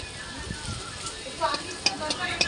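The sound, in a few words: leafy greens frying in mustard oil, stirred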